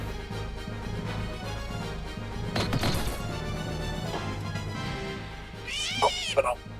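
A cat enemy in Final Fantasy Tactics yowls in-game, a few brief meows near the end over steady game music and combat hits, with a person talking through much of it.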